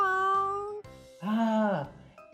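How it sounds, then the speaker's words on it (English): A cat meows a few times, with drawn-out tonal calls separated by short gaps, heard close and clear. "It's a cat."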